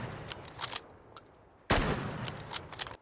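Rifle shots fired at distant targets: a few faint cracks, then one loud, sharp report with a long rolling echo tail.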